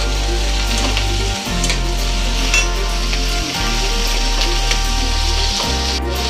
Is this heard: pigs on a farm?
no